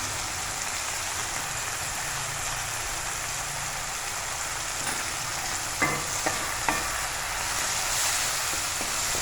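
Capsicum and omelette pieces fry in a pan with salt, holding a steady, rain-like sizzle throughout, broken by a few soft scrapes and taps near the end.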